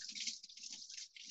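Tap water runs steadily in a kitchen sink while capers are drained in a strainer, a continuous close hiss with soft splashing.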